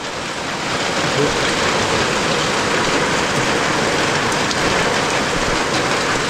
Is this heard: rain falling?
yes